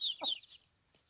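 Chickens clucking close by, a couple of short soft clucks and a higher squawk in quick succession, then quiet.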